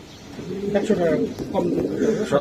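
A breeding pair of pigeons with eggs at a pigeon market coo in low burbling phrases up close, repeating across the moment while people talk nearby.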